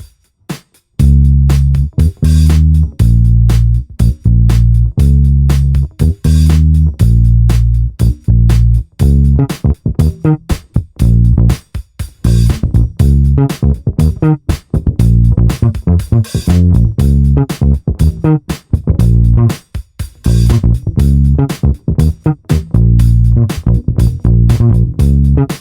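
Bass guitar groove played over a drum beat, a dense, steady funky pattern of punchy low notes and sharp hits running continuously for about 25 seconds, loud and close with no talk.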